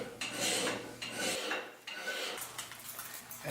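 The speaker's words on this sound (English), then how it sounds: "Trying to create a convex grind, which then the drywall pad will follow" Sandpaper wrapped on a drywall pad rasps repeatedly along an axe edge while putting a convex grind on it, a close, steady scraping in several strokes with brief pauses between them.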